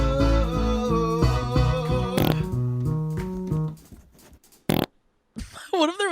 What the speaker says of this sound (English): Can't believe the mic picked up my fart.